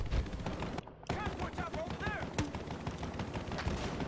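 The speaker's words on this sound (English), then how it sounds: "This gun is really good if you spam the trigger and you're close range with people" Gunfire from a gun fired at close range in the Battlefield Hardline multiplayer video game, a run of quick sharp shots under someone talking steadily over them.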